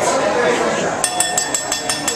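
Drinking glasses clink in a series of bright, rapid taps in the second half, heard under ongoing conversation.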